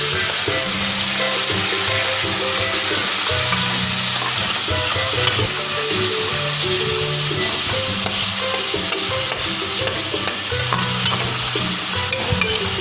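Chicken sizzles and fries steadily in a pan as a splash of vinegar goes in, with a constant loud hiss and bursts of stirring clatter throughout, no voices.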